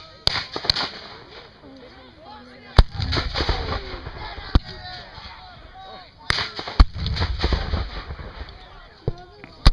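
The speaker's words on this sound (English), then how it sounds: "The artillery up on our far right had a beautiful column of smoke after they fired." Civil War re-enactment artillery firing outdoors, several sharp, loud booms spaced irregularly with a rumbling low tail after each, while people talk in the background.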